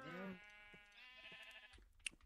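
Sheep bleat in a farming video game, a wavering harmonic cry up close followed by a few more short calls and small clicks, with no talk over them.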